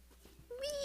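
A cat gives one short meow, rising in pitch and held briefly, after a moment of quiet room noise.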